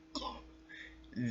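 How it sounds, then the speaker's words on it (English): A man gives a single short, sharp cough followed by throat-clearing sounds, close to the microphone and fairly quiet, with a brief second burst near the end. "Trying not to have a coughing fit right here"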